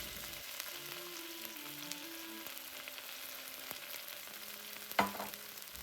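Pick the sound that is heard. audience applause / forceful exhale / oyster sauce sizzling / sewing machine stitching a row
oyster sauce sizzling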